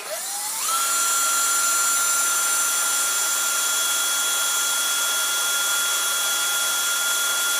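A power drill with a very dull bit whirs up quickly and then runs at a steady high-pitched whine while drilling a hole in a kids' helmet, loud and close, with no speech over it.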